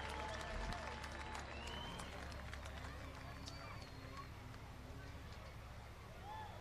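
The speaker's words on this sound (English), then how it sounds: "let's give all 13 starters a big round of applause here in the semis on the high banks at Salem Speedway" Race fans at Salem Speedway clap for the semi-truck semifinal starters on the high banks, a faint, broad wash of distant applause and crowd noise under an announcer's voice.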